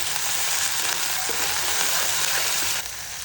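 Green chillies and coriander sizzle loudly and steadily in a hot pan, a dense continuous hiss that drops off abruptly near the end.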